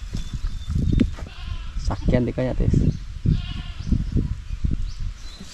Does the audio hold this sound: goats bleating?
yes